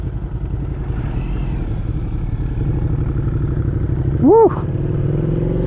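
Suzuki SV650 motorcycle engine running steadily during a ride, a continuous mid-pitched drone with wind noise throughout, close and loud, with a brief excited shout from the rider near the end.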